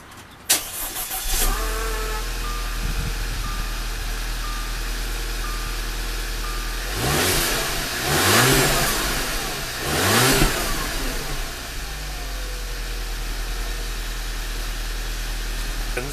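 A car engine cold-starts, cranking and firing up, settles into a steady idle, then revs twice in quick bursts before dropping back to idle, close by.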